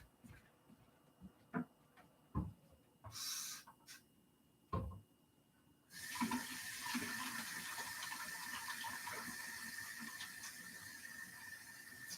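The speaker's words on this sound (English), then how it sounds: "I just want to wash my hands." Washing hands at a kitchen sink: a few clicks and handling knocks, then the tap opens and running water pours steadily and fairly loudly for the remaining six seconds.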